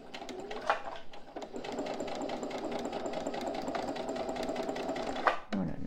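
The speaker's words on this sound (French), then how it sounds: "je positionne bien mon biais et je reprends ma couture" A sewing machine stitches steadily along fabric bias binding, producing a fast, even mechanical rattle that runs nearly continuously with a brief pause near the start and a stop at the end.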